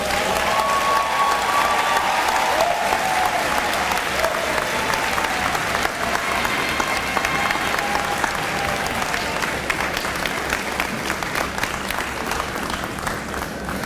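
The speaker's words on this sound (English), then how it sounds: "another rousing round of applause for that very appropriate and needed message" A large commencement crowd breaks into sustained, loud applause after a graduation speech, a thick continuous roar of clapping with some cheering that holds steady and eases slightly toward the end.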